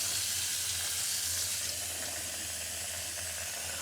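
Water pours continuously into a pot of rice for rice beer brewing, a steady bright rushing hiss that holds unbroken throughout with no talking.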